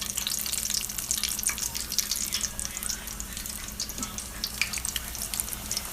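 Jackfruit nuggets drop into hot oil and fry with a steady, close, bright crackling sizzle that continues throughout, with no talking.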